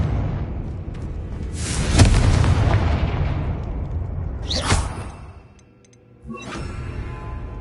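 A Confringo blasting curse detonates in the Hogwarts Legacy video game, a loud booming blast with a rushing whoosh, followed by a second burst, a brief lull and further rumbling.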